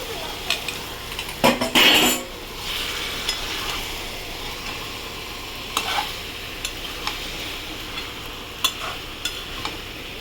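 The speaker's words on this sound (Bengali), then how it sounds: "এটা ভালো করে নেড়ে ফিরছি" Chicken masala being stirred in a hot pan: continuous sizzling with repeated scrapes and knocks of a spoon against the metal, a louder clatter near the start, close and without speech.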